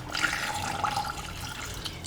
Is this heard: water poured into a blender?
yes